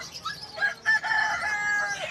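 A turkey gobbles in short, loud bursts close by, with faint background murmur.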